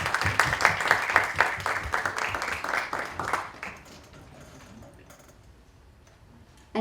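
An audience at a panel discussion applauds the team with a burst of rhythmic, fairly close clapping that fades to quiet room tone after a few seconds.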